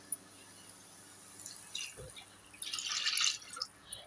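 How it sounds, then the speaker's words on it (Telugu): Water splashes briefly into a pan of cooking small-tomato curry, a short faint pour with a few drips before and after, over a quiet background hum. "వాటర్ పోయాలి"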